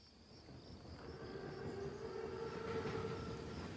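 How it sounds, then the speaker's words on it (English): In the Call of Duty WWII game, a large train rolls past with a steady low rumble that builds gradually, faint and continuous, with a thin whine riding above it. "Train's right on time. Biggest train I've ever seen."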